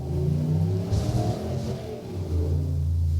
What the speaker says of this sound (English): It's literally what my truck sounds like.